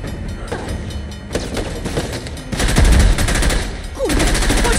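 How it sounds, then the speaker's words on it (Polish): A train approaches in the video game Uncharted, a loud continuous rumble and clatter with sharp rapid bursts like gunfire layered over it, filling the scene without pause. "Pociąg się zbliża!"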